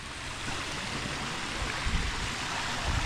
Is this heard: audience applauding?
no